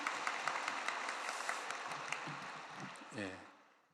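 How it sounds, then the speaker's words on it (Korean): A church congregation at a Sunday worship service in Seoul applauds its choir, a soft, distant patter of many hands fading gradually, with a voice speaking briefly near the close. "우리 격려의 박수 응원하겠습니다"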